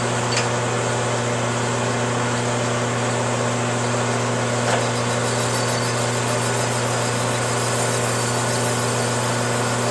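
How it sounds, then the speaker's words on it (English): A milling machine on power feed takes a light one-thousandth face cut across a four wheeler cylinder head, giving a steady, loud mechanical hum and whine that runs unbroken for the whole stretch, with no talking. "I'm just going to take another thousandths off just to clean it up, get a better finish on it, turn the power feed on"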